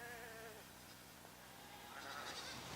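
Faint, distant sheep bleats rise over a steady outdoor noise floor, with a higher-pitched wavering call near the start and softer ones later.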